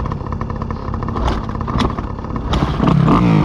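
A motorcycle circling a track rumbles steadily up close, loud and continuous, with a couple of rattling clatters and rising revs toward the end.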